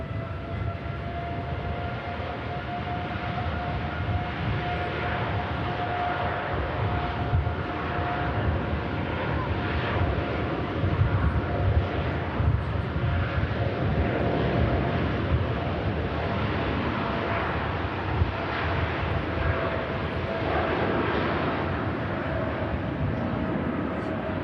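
A TUI Boeing 787-9 Dreamliner, flight 148 to Cancun, departing Manchester Airport: a loud, steady jet roar with a thin sustained whine runs unbroken throughout.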